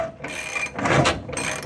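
Ratcheting clicks and grinding metal scrapes as a bolt is turned while its cage nut spins loose in the subframe of a 1967 Chevrolet Camaro, in short close bursts.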